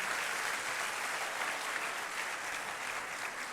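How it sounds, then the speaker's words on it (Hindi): College event audience gives a warm round of applause to welcome a guest poet, a steady, even wash of clapping from a large crowd with no talking over it. "तालियां होनी चाहिए आपकी तरफ से।"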